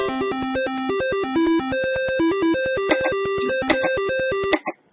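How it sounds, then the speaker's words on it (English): Electronic spin jingle from a Triple Diamond online slot machine, a bright tonal melody of short bleeps pitched around middle C playing steadily for about five seconds, with a few sharp chime bursts near the end before cutting off. "this is a classic old slot machine that are always in a tune of middle C"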